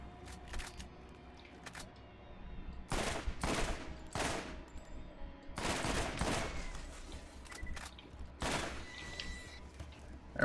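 Fire rocket launcher shots in Borderlands, several loud broadband blasts arriving in bursts over a steady game background, with firing bunched around the middle and a final blast near the end.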